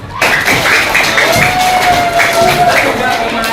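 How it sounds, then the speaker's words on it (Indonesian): Clapping and cheering from a group break out at a Quran lesson on Surah Al-Qari'ah, a steady, loud burst of applause lasting several seconds, with voices mixed in. "Tepuk tangan."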